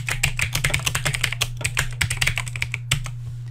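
Rapid, uneven keystrokes clatter on a computer keyboard over a low steady hum, close and continuous for a few seconds.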